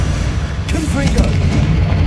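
In Hogwarts Legacy, an explosive Confringo spell bursts with a loud, close booming blast and swirling magical tones, while a voice speaks over the combat.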